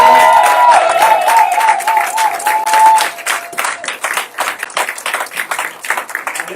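Church congregation applauding and cheering at a Sunday service, a dense, steady wash of many hands clapping with crowd noise, a sustained tone ringing over the first half before the clapping continues alone.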